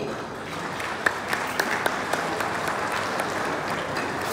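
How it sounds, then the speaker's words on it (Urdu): An audience at an iftar dinner and donation event claps together in sustained, dense applause, loud and even, with a few sharper individual claps standing out early on. "سب سے پہلے آپ اپنے لیے بھرپور تالیاں بجائیں۔"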